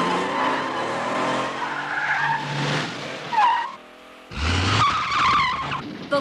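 A runaway car speeding and skidding in an animated chase, tyres squealing loudly in long screeches with engine roar, a brief lull, then another burst of skidding, close and intense.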